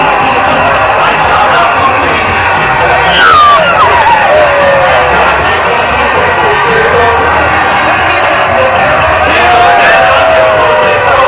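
An excited crowd cheers during a proclamation of laureates at a school graduation ceremony, a loud, sustained roar of shouting, whoops and high-pitched screams, with voices babbling throughout.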